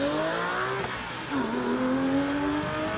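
A Porsche Boxster engine accelerates hard on a speed hill climb run at Prescott, rising in pitch through the gears, with one brief dip as it shifts before climbing again. It stays loud and steady throughout, with no talk.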